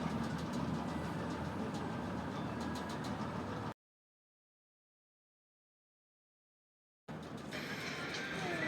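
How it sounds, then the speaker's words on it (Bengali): Kanchankanya Express train rolling over a bridge across the Daina river, a steady loud rumble of wheels and carriage noise that cuts out completely midway, then resumes. "আমাদের ট্রেন ক্রসিং করছে এখন ডাইনা নদী।"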